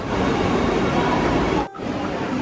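A Vande Bharat express train arriving rumbles loudly and steadily close by, a continuous roar of rail noise with a brief dip near the end.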